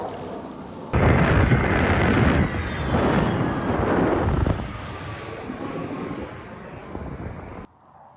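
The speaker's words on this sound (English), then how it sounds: "We got the blue angels firing off in the background" Blue Angels jet aircraft roar overhead near a fishing dock, a loud, broad rumbling rush that starts abruptly, holds strong for several seconds, then slowly fades before cutting off.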